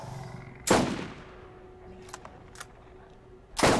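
Two loud, sharp gunshots about three seconds apart in the shooter game Borderlands, with faint clicks and quieter noises between them.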